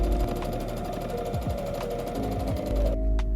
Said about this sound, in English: Sew along the edge using a 1 centimeter or 3/8 inch seam allowance.